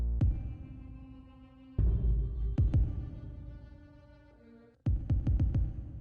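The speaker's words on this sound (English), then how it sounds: "that's just a regular kick with a ton of reverb on it and a filter to just let just the low end through" Muffled trap kick drum with heavy reverb and a low-pass filter leaving only the low end, sounding as a few deep booming hits with long washy tails inside an emo trap beat.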